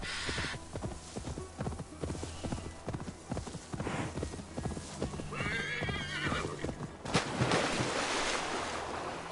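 Video game sound of rhythmic clip-clop of horse hooves at a steady gallop in Assassin's Creed Valhalla, with a horse whinnying midway and a whoosh of motion near the end.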